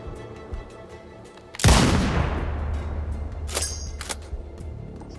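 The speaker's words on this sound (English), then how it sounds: "Where are the snipers that shoot at me though?" A single loud sniper rifle shot in the Sniper Ghost Warrior Contracts 2 video game cracks out and rolls into a long echoing tail, followed by a couple of fainter sharp reports.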